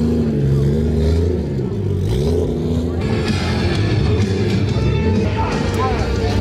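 The modified car engine at a cars-and-coffee meet runs with a deep, throaty rumble that rises and falls as it is revved, heard close and loud, with people talking nearby.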